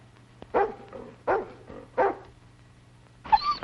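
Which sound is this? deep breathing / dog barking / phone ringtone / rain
dog barking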